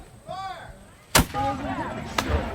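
Two loud booming cannon blasts at a Revolutionary War reenactment battle, about a second apart, ring out with faint voices murmuring in the background.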